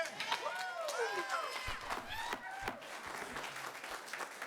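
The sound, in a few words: audience applause at county commission meeting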